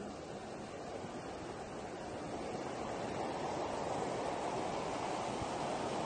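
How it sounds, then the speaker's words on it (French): A steady, dense rush of falling water roars continuously, broadband and unbroken, like a nearby waterfall. "Une belle cascade."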